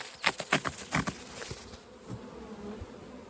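A honey bee colony treated with an antiviral hums steadily at close range, soft buzzing with a few louder passes of individual bees at the start, and no talking.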